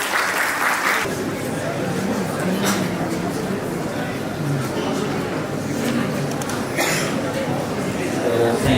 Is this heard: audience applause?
yes